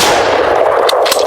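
A hunting rifle fires a single loud shot close by, and its sharp blast rolls out into a long echoing decay on a big-game hunt in Zimbabwe.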